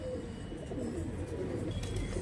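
Pigeons cooing in a loft among many birds, soft low rolling coos over a dense, constant background of bird noise and flutter, with no talk.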